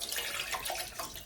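Water pouring steadily into a pan to weigh down a cutting plate, a continuous close splashing rush.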